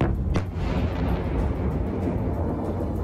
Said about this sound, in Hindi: जिसके बाद जोरदार धमाका सुनाई दिया